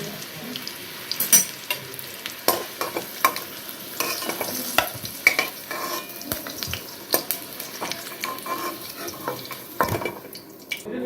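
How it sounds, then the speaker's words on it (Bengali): Potatoes fry in hot oil for a goat curry, with continuous sizzling broken by frequent stirring scrapes and clinks of the spoon against the pan, close and fairly loud. "আলুগুলোকে আমি লাল লাল করে ভেজে তুলে নেব"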